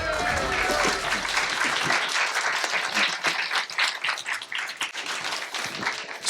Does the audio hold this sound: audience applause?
yes